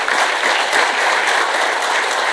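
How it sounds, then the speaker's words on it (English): An audience at a presentation event claps in sustained, even applause that stays loud and steady for a couple of seconds. "Give you a round of applause."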